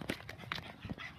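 A dog gives a quick burst of faint, distant barks and yips, three or four short sharp calls in about a second.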